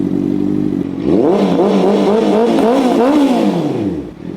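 A 2013 Honda CB650F motorcycle engine idles, then revs loudly several times in rising and falling sweeps, close and dominant, before settling back down.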